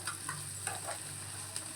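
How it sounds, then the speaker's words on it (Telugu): Egg noodles frying in a pan while being stirred, a soft steady sizzle with faint scraping strokes, quiet and continuous without talk. "మంచిగా ఫ్రై అయ్యేటట్టు కలపాలి."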